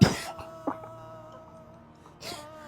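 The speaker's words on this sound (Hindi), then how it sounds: "खांसी नहीं आएगी, पानी पीजिए" A couple of short, harsh coughs close by, separated by a brief pause, with a quiet tonal hum in the background.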